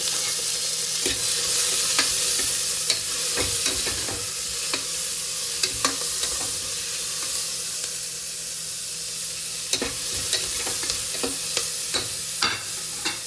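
Green chillies, a small tomato, coriander and mint fry in a pan with steady close sizzling and hissing, broken up by frequent stirring and scraping clicks throughout, and no one speaks.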